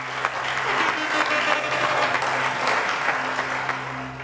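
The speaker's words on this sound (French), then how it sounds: "Applaudissez, s'il vous plaît, pour elle." Audience applause breaks out at a live comedy show, a steady wash of clapping that holds at a fairly even level for several seconds with no voice over it.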